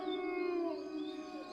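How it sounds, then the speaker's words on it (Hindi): A single dog sounds far off in a quiet village at night, its drawn-out, wavering voice carrying steadily like a distant howl rather than sharp barks, with no talk over it. "दूर से किसी कुत्ते के भौंकने की आवाज आ रही थी।"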